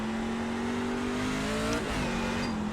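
A NASCAR race car in the iRacing video game, throttle applied too hard with wheelspin: a steady high engine drone that wavers and dips briefly as the tires spin, then resumes, with faint tire noise.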